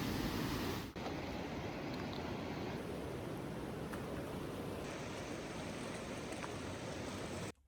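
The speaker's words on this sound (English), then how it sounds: "Then came the waterfalls, big ones." A big waterfall in Sweden sends out a constant, dense rushing roar that stays steady throughout and then cuts off at the end.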